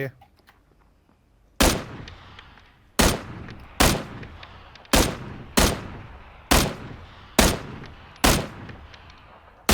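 Gunfire in a duo ranked match of a shooter game: seven sharp, loud single shots spaced roughly a second apart, each with a short decaying tail, after a quiet opening.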